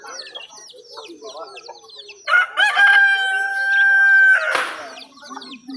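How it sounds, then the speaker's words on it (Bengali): Chickens and other birds at a stall of a livestock fair, a rooster crowing loudly and long up close while chirps and clucks continue around it. "দেখেন অনেকগুলো পাখি উঠছে"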